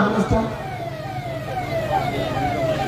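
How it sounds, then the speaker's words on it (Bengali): An ambulance siren wails through a crowd at a political meeting, its falling tone repeating over the din while people talk and shout nearby. "এই অ্যাম্বুলেন্সটা ছেড়ে দিতে হবে"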